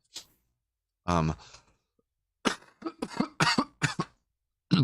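Two separate coughs, close and fairly loud, followed by a stretch of quiet and then a burst of throat sounds or short speech-like noises.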